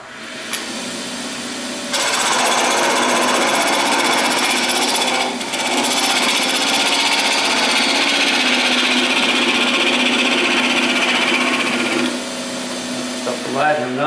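A wood lathe turns a multi-centre goblet with a loud, steady whirring drone. The sound rises abruptly near the start, holds with a brief dip in the middle, then drops back toward the end.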